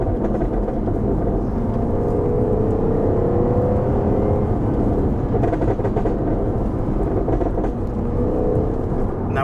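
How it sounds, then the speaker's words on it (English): Car engine revving as the throttle is blipped and released so fuel ignites on the overrun, a steady rumbling drone at close range with rising and falling revs and faint crackle, with no talking. "by gently tapping the accelerator, what we're doing is we're just introducing more fuel into that and coming off the throttle and letting that spark cut come in"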